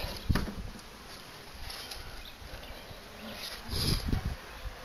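Honey bees buzz around a swarm trap box as they are moved in, a soft steady drone with a few louder close passes and low bumps.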